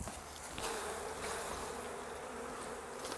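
Honey bees buzz around hive frames during honey harvesting, a dense continuous drone of many insects close by, soft and steady with no talking.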